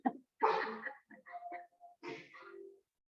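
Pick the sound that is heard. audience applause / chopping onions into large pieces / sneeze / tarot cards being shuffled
sneeze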